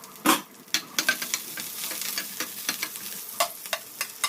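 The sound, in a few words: mustard seeds, curry leaves and chillies sizzling in hot oil in a pan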